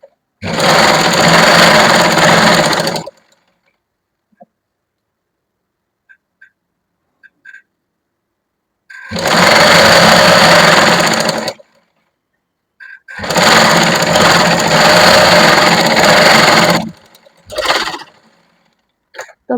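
A sewing machine double-stitching the sleeve seam of a lined kurti, running in three loud bursts of rapid stitching separated by silent pauses, ending with a short final burst and a few faint clicks between runs.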